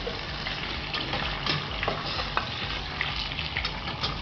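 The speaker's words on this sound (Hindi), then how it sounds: "अब हम इसमें चिकन डालेंगे तो हल्के से फ्राई हो जाए, अच्छी तरीके से फ्राई हो जाए।" Chicken fries with browned onions in a pan for biryani, producing a continuous dense sizzle with scraping stir strokes and a few sharper clacks, close and fairly loud.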